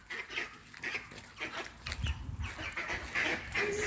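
Seabirds being fed by the sea in Norway call out in a noisy flock, with repeated honking and squawking cries at an uneven rhythm, moderately close and no talk.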